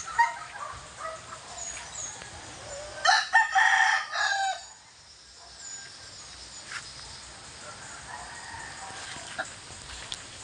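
A rooster crows once, loud and close, amid faint clucking and a distant dog barking over quiet outdoor background.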